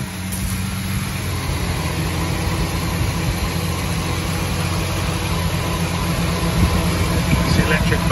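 A 1974 Jaguar E-type V12 roadster idles with a steady, low engine rumble as its electric cooling fans cut in, while someone talks over the sound throughout.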